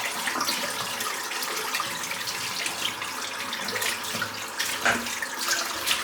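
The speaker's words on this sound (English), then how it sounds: "I'm just going into the sink now because the water is absolutely freezing now" Cold water running from a sink tap, a steady close splashing rush that carries on without pause.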